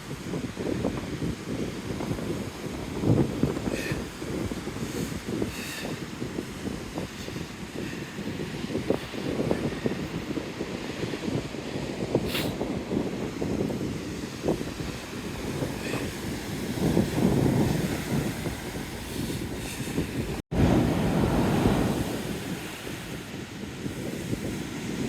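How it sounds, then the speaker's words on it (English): Strong wind buffets the microphone while heavy sea waves crash and roll on the Fuengirola coast, a continuous rough roar with surges of surf swelling and receding at moderate distance. "Hefty waves here too."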